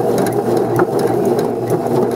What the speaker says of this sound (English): And I'm doing a double stitch, so I don't have to back stitch.